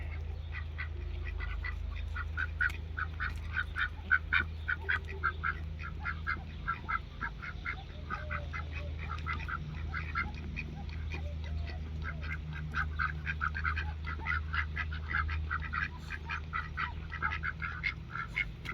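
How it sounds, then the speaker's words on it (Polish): Young and older domestic ducks quack repeatedly in a steady, chattering stream over a low background hum, fairly close and moderately loud, with no speech. "Młode kaczorki uczą się od naszych starszych kaczorków."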